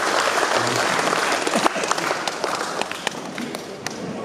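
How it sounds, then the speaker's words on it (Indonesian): Loud, dense applause from a crowd welcoming Kamoro guests at a new office opening in Papua, a steady unbroken roar of clapping hands with scattered sharper claps standing out near the end. "tepuk tangan buat saudara-saudara Kamoro"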